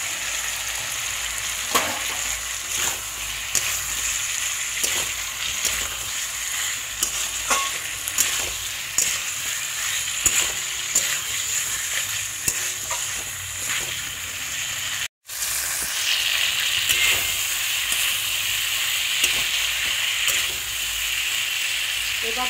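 Fried cauliflower pieces stirred in a hot pan for a koi fish curry with potato, giving a steady close sizzle and repeated scraping stirs throughout, with a brief break and louder frying afterward.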